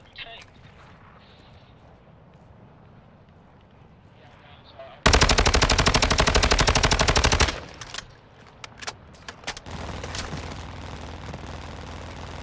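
Loud, sustained automatic gunfire in a first-person shooter video game, a dense burst lasting a few seconds, followed by scattered single shots and continuing rattling fire, with a voice talking beforehand.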